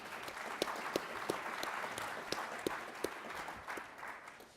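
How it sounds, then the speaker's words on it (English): Audience applause welcoming a panel at a policy event, a faint, steady round of clapping with a few sharper individual claps standing out near the front. "A big round of applause for our next panel."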